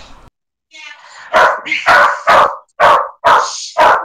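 Dogs barking in a home during a call, a quick series of loud, close yaps and barks in a rapid irregular rhythm after a whine, with no talk over them.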